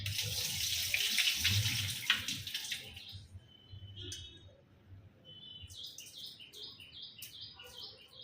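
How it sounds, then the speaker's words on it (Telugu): Basmati rice is washed, with water splashing and pouring out for about three seconds as it drains. Quieter trickles follow, and birds chirp faintly in the background. "సో కడిగేసి నీళ్లు పారపోసేద్దాము."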